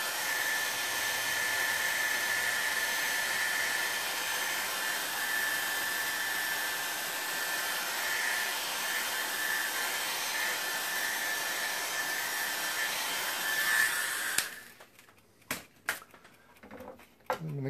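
A 1500-watt hairdryer blows steadily on a wet painting, a constant loud whooshing whine that holds for most of the clip, then cuts off abruptly, leaving a few scattered clicks and handling noises.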